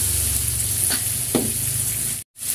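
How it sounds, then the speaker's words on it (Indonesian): Vegetables sautéing in spiced seasoning with lime leaves, bay leaves, lemongrass and galangal, a constant close sizzle broken by two soft stirring scrapes and a brief dropout near the end. "Kita tumis sampai meresap bumbunya"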